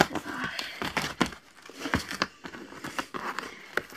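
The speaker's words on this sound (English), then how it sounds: "I just rip this off." Material being ripped and crumpled by hand at a house building site, a few close crinkling tears and rustles in uneven bursts with no talking.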